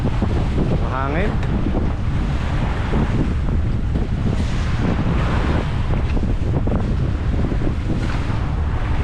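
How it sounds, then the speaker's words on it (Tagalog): Strong wind buffets the microphone on a boat during a sea trial in a constant roar, with a faint voice briefly audible underneath the blustery noise. "Mahangin."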